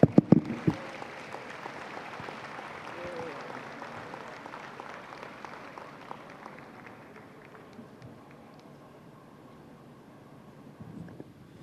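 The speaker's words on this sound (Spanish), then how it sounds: "Denle un aplauso al Señor." A church congregation applauds during a service about the Lord's Supper, a sustained, fairly soft wash of clapping in a large room that slowly fades out, with a few sharper claps at the start and end.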